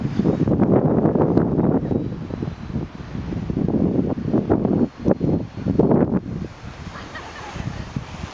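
Strong wind buffeting the microphone outdoors in a park, a steady, loud rumbling roar with gusty swells and brief dips.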